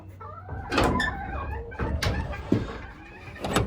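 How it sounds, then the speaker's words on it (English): A door shuts inside a chicken coop with a few knocks and scrapes of the latch, fairly close, with soft background noise and faint murmurs. "Get this door shut."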